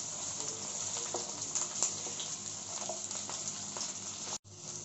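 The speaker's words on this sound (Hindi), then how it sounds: "अब हम डाल देते हैं इनके अंदर प्याज भी। और अच्छे से दोनों को हम पका लेते हैं।" Potatoes and onions sizzling in a frying pan, a steady close crackling hiss with small pops and stirring scrapes, briefly cutting out near the end.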